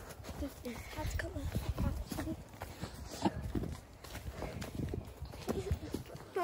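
Two horses walking in a line clip-clop on a hard surface nearby on a hot day, a steady hoof rhythm running under frequent conversational talk from people close by.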